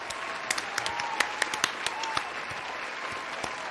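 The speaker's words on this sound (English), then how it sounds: "Round of applause for Sarah, guys." A small crowd claps, scattered sharp hand claps forming light applause that gradually thins out.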